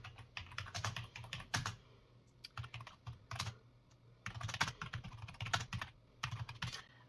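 Someone types on a computer keyboard in irregular flurries of soft, close keystrokes, with brief pauses between bursts and no talking.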